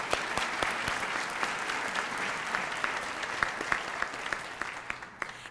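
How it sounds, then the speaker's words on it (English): An audience at a university Founders Day lecture applauds a pre-lecture piano player, with steady sustained clapping and a few sharp individual claps standing out near the listener. "please join me in a round of applause for our pre-lecture entertainer, piano player Jessica Pacheco"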